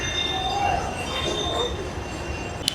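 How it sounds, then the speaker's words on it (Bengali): A train pulls in at a platform of Bidhannagar station, a steady rumbling, hissing wash of rail noise with faint metallic squeal tones and a sharp click near the end. "এই মুহূর্তে খবর হয়ে গেছে আমাদের ট্রেন এদিক থেকে আসবে 1 নম্বর দিয়ে"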